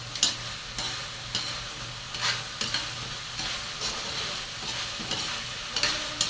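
Chicken adobo frying in a pan and stirred steadily, with a constant sizzle under repeated scraping strokes of the spatula, close and fairly loud, with no talking.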